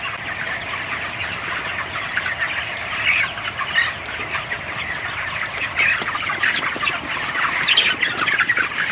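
Ross 708 broiler chickens in a poultry house cluck and squawk continuously, a dense crowd of overlapping calls that fills the whole clip at close range.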